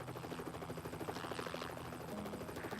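Helicopter hovering beside high-voltage power lines, a steady rotor drone with rhythmic blade chop and engine whine, continuous and moderately loud without voices.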